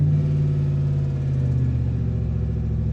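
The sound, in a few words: 2014 Chevrolet Silverado engine, throttle tapped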